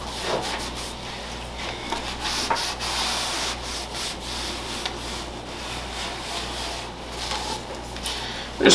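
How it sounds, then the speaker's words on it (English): A brush sweeping dust off a Marshall JCM900 guitar amp, around the knobs and strings, with a steady close bristly scrubbing that continues without break. "You can brush like on the pick guard under the strings, you can brush the knobs off."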